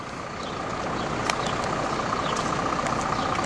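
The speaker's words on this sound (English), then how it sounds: "This is the Greyhound bus station." Traffic idles outside a Greyhound bus station as a steady, broad engine rumble and street noise, with a few faint clicks and ticks on top and no voices.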